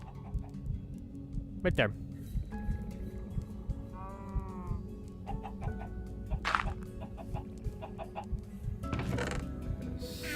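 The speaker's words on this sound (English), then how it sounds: "these chickens sure do lay a lot of eggs" Chickens in a village-building video game cluck and squawk in short bursts, with a sheep-like bleat mixed in, over a busy low background, while a person talks briefly.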